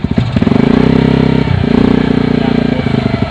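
Bajaj CT-100 motorcycle engine revving loudly up close, a throbbing low mechanical pulse that rises, dips briefly, then builds again, with someone talking over it.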